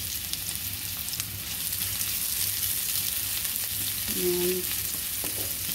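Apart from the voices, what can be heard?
onion sautéing in pan for chicken feet adobo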